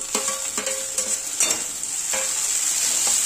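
Chopped tomatoes sizzling in a hot pan as they are stirred with a metal spoon, a bright continuous hiss broken by several clear scraping and clinking strokes, close up with no voices.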